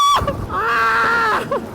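A loud, sustained, high-pitched scream rises and holds for about a second at a go-kart racing tournament, with short cries at the start and end.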